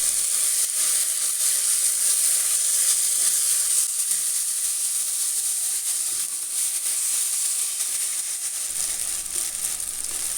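A steady, loud sizzle from a pan as mashed moringa leaf bhorta is stirred and fried, with soft stirring movements under the continuous hiss and no talking.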